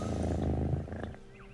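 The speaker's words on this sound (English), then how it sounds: "I could pet a cat." A cat in The Talos Principle 2 purrs while being petted. The purr is a close, continuous low rumble that fades slightly toward the end, with no voices over it.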